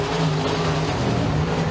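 Race cars roaring around a dirt speedway oval during a heat race, a steady, loud engine drone holding throughout with no break.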